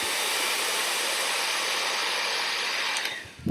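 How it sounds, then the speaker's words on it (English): A hair dryer blows with a steady, loud whooshing hum, warming nail wraps, then cuts off near the end with a brief click. "if you're using a hair dryer"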